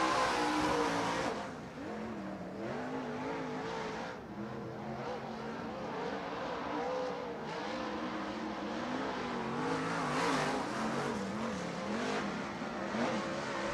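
Modified race cars on a dirt track at the East Bay WinterNationals roar and rev, engine pitch rising and falling as cars accelerate through corners, loud and continuous with no voices.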